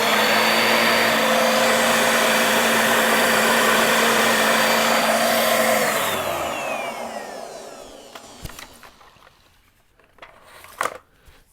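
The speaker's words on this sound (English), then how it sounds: "This is a Bissell Clean View vacuum cleaner." A Bissell Clean View upright vacuum cleaner runs loud and steady with a high whine, then spins down gradually over a few seconds, followed by quiet clicks and knocks of handling.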